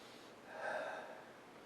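A nose brought close to a glass of Goliat Brewing imperial stout with coffee, pitch black under a half finger of head, draws one soft close sniff that swells and fades, with no talking.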